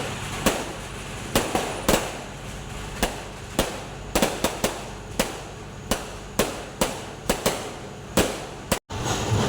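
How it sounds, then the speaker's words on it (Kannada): Repeated sharp firecracker and firework bangs burst at irregular intervals over a steady crackling, noisy background at a Ganesh festival celebration, with no voices. "ಪಟಾಕಿ ಸುಡು ಮದ್ದೆಲ್ಲ ಬಿಡಲಿಕ್ಕೆ ಶುರು ಮಾಡಿದರು"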